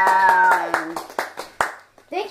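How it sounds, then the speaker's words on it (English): A small group gives a few scattered, separate hand claps for the host of a homemade talk show, with children's voices and a sung or hummed tone heard alongside. "And one more round of applause for our talk show host"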